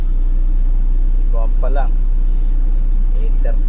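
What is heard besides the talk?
road traffic, cars in a traffic jam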